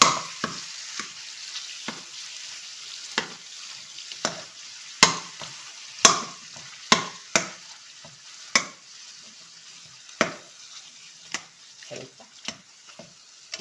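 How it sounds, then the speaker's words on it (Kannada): Peeled tomatoes mashed in a hot pan for homemade pizza sauce, with irregular sharp taps and scrapes of the utensil against the pan over a soft sizzle, some sounds louder and some faint, spread across the whole stretch. "ಈಗ ನಾವಿದು ಸ್ವಲ್ಪ ಟೊಮೆಟೆ ಹಣ್ಣು ಸ್ಮ್ಯಾಶ್ ಮಾಡ್ಕೊಳ್ಳೋಣ"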